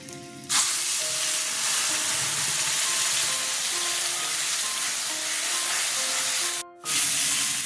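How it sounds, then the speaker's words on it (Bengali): Onion, ginger and chili paste sizzles loudly and steadily in hot oil, starting abruptly with a hissing burst and continuing as a dense close-up frying crackle, briefly cut off near the end before resuming. "পেঁয়াজ আদা লঙ্কা পেস্ট ছেড়ে দিচ্ছি"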